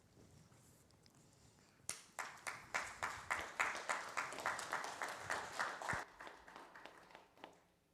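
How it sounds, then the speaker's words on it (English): Audience clapping at an Erev Shabbat service in a congregation, starting suddenly after a quiet stretch with loud, slow rhythmic claps in near unison that fade away after several seconds. "Add a word and you're already clapping."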